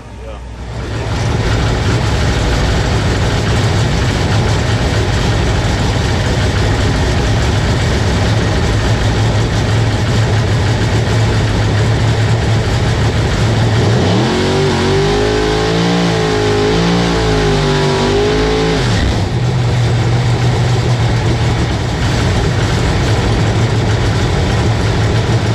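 A Pro Mod drag race car engine running loud and steady, with a throbbing, wavering shudder for a few seconds as the tires shake, heard close over background noise.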